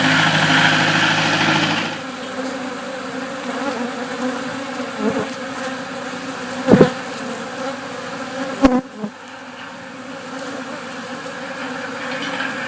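Honeybees buzz in a steady, dense drone around hives during commercial pollination in Florida, with a louder burst at the start, a low engine-like hum underneath and a few sharp knocks partway through.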